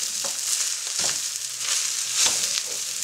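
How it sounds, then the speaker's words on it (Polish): Minced meat and basmati rice sizzle in a hot pan while being stirred, giving a steady soft hiss broken by a few scraping stirs, fairly quiet and close, with no talk. "I wrzucam go sobie do mojego mięsa. I mieszam wszystko razem,"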